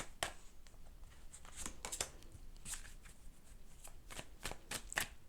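A deck of tarot cards is shuffled close up and quietly, a string of crisp riffles and flicks with soft card slaps scattered through.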